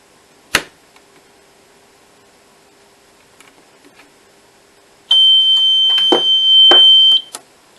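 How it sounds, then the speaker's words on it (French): A Finsecur fire alarm panel sounds for a garage zone: after a quiet stretch broken by a sharp click and a few faint taps, a loud steady electronic alarm tone blares for about two seconds, then cuts off. "Enfin, je déclenche l'alarme incendie dans le garage."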